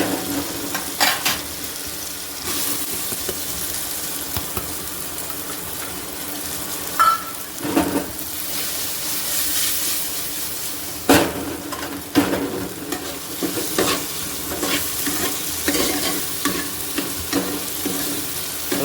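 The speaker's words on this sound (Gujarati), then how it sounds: "ડુંગળીને પણ આપણે રોસ્ટ થવા દઈએ ત્યાર પછી આપણે ટમેટું એડ કરીશું" Onion fries and sizzles steadily in a tall pressure cooker as it is sautéed for panchratna dal, with frequent stirring scrapes and clinks over a continuous loud hiss.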